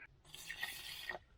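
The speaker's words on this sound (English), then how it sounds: "and then the water goes in" Water being poured into a cooking pot holding fried beef, rice, vegetables and flat peas, heard as a steady splashing pour lasting about a second, moderately quiet and close, with no talking.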